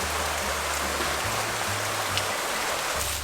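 Steady rain falls outdoors with a constant, dense hiss and a low rumble underneath, unbroken and fairly close, with no voices.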